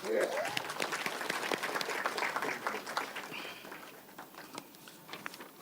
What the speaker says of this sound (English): You guys deserve a big round of applause.